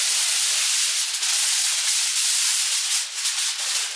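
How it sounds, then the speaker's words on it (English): Sheet of tin foil crinkled and pressed over a seasoned jerk turkey before roasting, a continuous close, bright rustling and rubbing that runs steadily for several seconds with no talk. "we're just going to put some tin foil over it"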